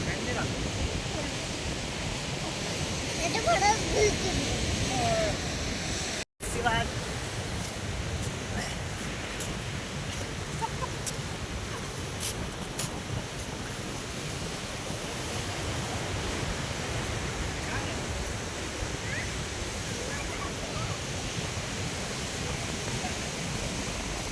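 Surf roars continuously at a beach near Vellanathuruthu in Chavara, Kerala, a steady wind-blown wash that runs throughout with only a momentary dropout, while voices sound faintly in the background.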